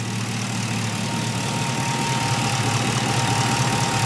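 A 1977 Camaro Z28 engine idles after a cold start with a steady, unbroken rumble, close and constant throughout with no talk.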